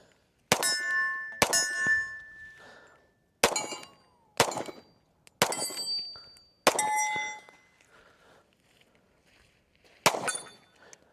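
An M&P Shield 45 pistol fires about seven sharp, loud shots at an outdoor range, each followed by a ringing metallic echo, spaced irregularly with pauses between them.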